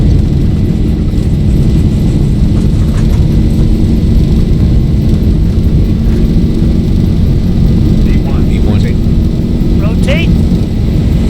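Boeing 737 jet engines at takeoff thrust during the takeoff roll, a steady, loud, continuous roar and rumble with no letup, while a pilot's voice speaks over it.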